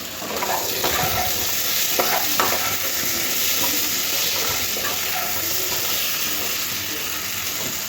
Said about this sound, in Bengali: কচু আর আলু কষতে কষতে একটু সামান্য চিনি দিয়ে দেবো